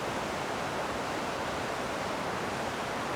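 A waterfall in a foggy landscape pours as a steady, broad hiss of falling water, unchanging and without any voices.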